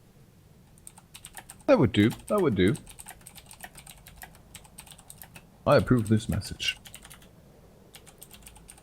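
Keys clatter softly on a computer keyboard as esports casters cover a Guild Wars 2 sPvP weekly cup, a steady patter of faint keystrokes running beneath two brief bursts of someone talking.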